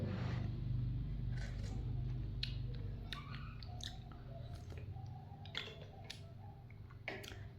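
Someone chews a spoonful of hot moong dal payasam close to the microphone, making soft wet mouth sounds and small clicks over a low background hum, with no speech.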